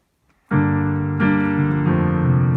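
Piano plays three sustained chords from a song in succession, the first struck loudly after a brief silence, each left ringing.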